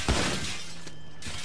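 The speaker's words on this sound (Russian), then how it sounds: "Выстрелите в окно и выберитесь наружу." Window glass shattering after a gunshot in Grand Theft Auto V: a sharp, loud burst of breaking glass near the start, then a dense rush of falling shards that fades over about a second.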